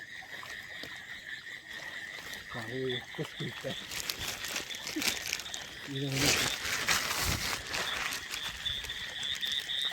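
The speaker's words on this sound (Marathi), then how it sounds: "सगळं शांत आहे बघा बेडकांचा आवाज" Repeated pulsing frog croaks come in short bursts over a steady night-time insect drone, with some rustling and faint voices nearby, during night crab catching in the Konkan countryside.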